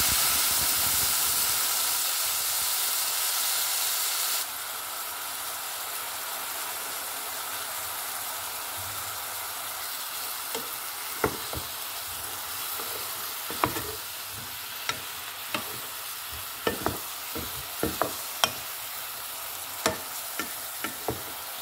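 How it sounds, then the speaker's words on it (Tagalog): Chicken feet sizzle and fry in a pan as sauce goes in, a steady loud hiss punctuated by repeated clinks and scrapes of stirring. "ilagay na natin yung sauce natin, itimpla natin sa ating chicken feet"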